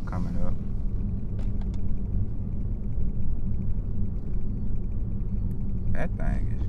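A big jacked-up truck at a rainy car show rolls past with a deep, heavy rumble that stays loud and steady throughout, while someone talks over it.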